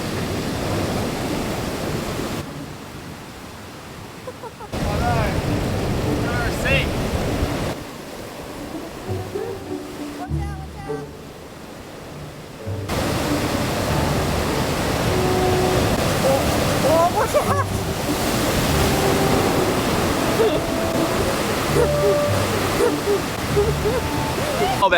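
Heavy swell surging and crashing over the rocks at Champagne Pools on Moreton Island, a loud continuous roar of surf and rushing water with brief quieter lulls between sets, plus faint bits of voice.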